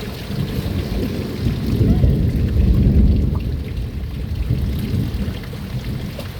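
Heavy rain pours steadily with a deep, rumbling roar that swells and fades, loud and close, with no clear talking.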